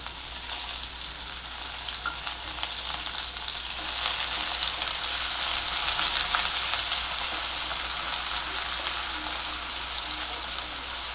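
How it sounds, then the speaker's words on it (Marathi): Chopped onion frying in oil with cumin seeds and asafoetida for a spicy soya chunk curry, a steady close sizzle and crackle that swells a little louder midway, with no talking. "कांदा परतून घेऊया"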